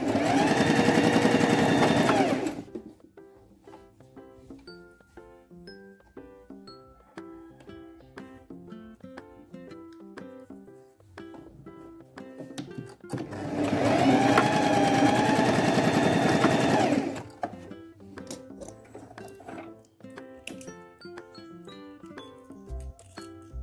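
Sewing machine stitching separate fabric pieces together for a baby pillowcase, two loud sustained bursts of whirring needle motion, a few seconds each, separated by quieter handling clicks and clinks.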